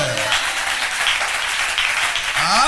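A church congregation applauds continuously and loudly, a dense steady wash of many hands clapping throughout, with voices faintly mixed in.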